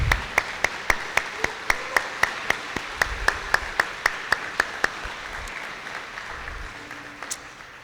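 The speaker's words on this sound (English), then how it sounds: "I hope you all just join me in a round of applause for all the parents" Applause for the parents at a school gala: sharp, evenly spaced claps in a steady rhythm for about five seconds before stopping, followed by quiet room tone.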